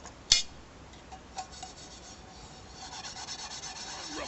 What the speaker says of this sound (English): Rub over lemon juice. Wipe over the micro fleece.